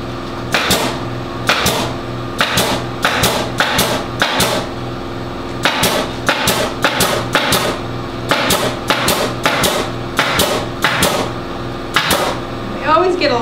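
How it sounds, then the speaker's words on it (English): Staple gun driving staples through upholstery fabric into the wooden frame of a vintage settee, a loud close series of sharp clacks in an uneven rhythm. "So now fold it, staple it down,"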